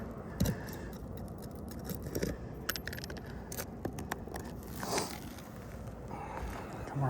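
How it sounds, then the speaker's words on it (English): Nails being pried and ripped out of boards, sharp metallic clicks, scrapes and snaps at an uneven pace, close by, with a few squeaky pulls. "I'm ripping every single nail through, so I'm just going to rip it off"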